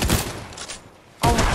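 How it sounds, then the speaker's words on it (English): Fortnite gunfire: a short cluster of rapid shots, a brief lull, then another sharp burst, fairly close and loud with no talking. "Reed, I can hear shooting."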